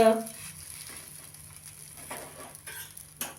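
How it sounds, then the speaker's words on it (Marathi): Rice-flour masala roti with potato laid on a hot tawa, giving a soft, steady low sizzle and faint pattering close by, with a brief louder bump near the start and a small clatter at the end. "आता तव्यावर आपण भाजायला टाकूया"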